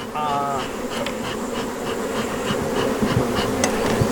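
Honeybees hum in a steady, loud, dense swarm around an open hive during a beekeeping inspection. The buzz runs close and continuous, with faint clicks from hive work.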